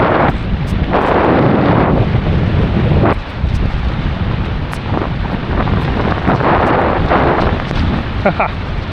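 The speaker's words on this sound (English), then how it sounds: "Another gust coming." Gusting wind at sea batters the microphone on a sailboat, loud rumbling roar swelling and easing in bursts throughout, with brief speech-like sounds near the end.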